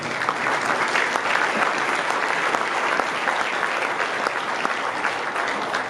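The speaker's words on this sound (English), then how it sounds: "I think we all deserve to give them a big round of applause" A large conference audience gives a big round of applause, a dense and even wash of many hands clapping that stays steady and full throughout, with no talking over it.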